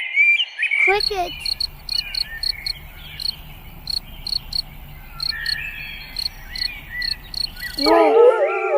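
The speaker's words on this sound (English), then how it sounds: "Cricket." A cricket chirps in steady, rapid pulsed bursts that repeat evenly for several seconds, close and clear over a low background hum, bracketed by short bright tonal sounds at the start and end.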